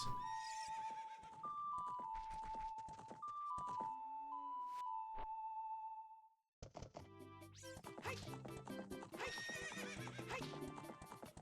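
Horse in the Ocarina of Time video game: loud whinnies and neighs over a melodic game tune, with a short gap of silence, then busy trotting hoofbeats and more neighing amid dense game music.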